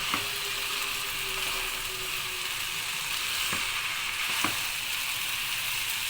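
Chicken and vegetables frying for egg noodles, a steady close hiss of sizzling with faint scraping stirs near the start and a few sharp clicks later on, no voices.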